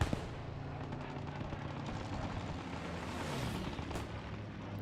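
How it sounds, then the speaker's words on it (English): Gunfire from an aircraft strafing run in the World War II video game Post Scriptum, a dense continuous roar of rapid shots and rumbling battle noise lasting throughout, with no talk. "that was a good strafe then"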